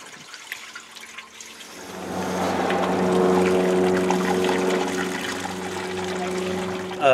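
Water pours steadily into a car radiator, starting quietly then swelling into a full, gurgling flow that fills the rest of the clip.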